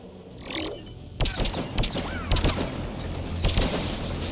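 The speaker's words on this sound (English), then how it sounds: "AA guns ahead of us." Anti-aircraft guns pounding away in a video game: rapid, loud, sharp bangs in irregular volleys lasting several seconds over a steady low rumble, with no voices.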